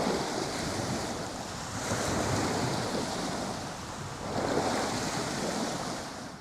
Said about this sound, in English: I found an audio clip of waves crashing on the beach